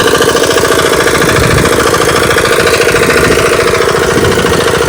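A homemade 5-horsepower mini power tiller engine runs loudly and close by, a steady, rapid chugging rumble with a fast knocking pulse that holds constant throughout.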